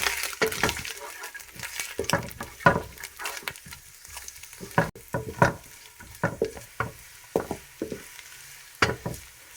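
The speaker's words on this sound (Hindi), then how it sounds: "अब इसके अंदर मैं गाजर डाल दूँगी।" Carrots tossed and stirred in a hot pan for spring roll filling, with repeated scraping clatters and bursts of sizzle at an irregular rhythm, close and moderately loud, with no voices.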